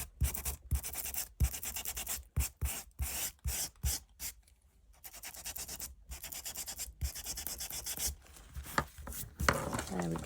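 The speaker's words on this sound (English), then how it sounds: "So I'm just going to give it a little sand" Sandpaper rubbed by hand over an inked junk journal page, a series of short, close, scratchy strokes in irregular rhythm with brief pauses between bursts.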